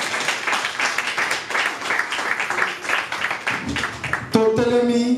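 Congregation in a church breaking into sustained applause, a dense wash of many hands clapping that rises and falls, ending with a sudden loud tonal burst of music or singing.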